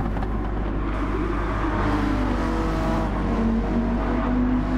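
Race cars in Gran Turismo 7 drag race side by side toward a corner on the Trail Mountain circuit, engines droning steadily and loud with rising, shifting pitch and a constant low rumble throughout.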